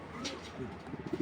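A pair of racing pigeons from the Netherlands gives a brief, soft, throaty coo at close range, faint and lasting only a moment.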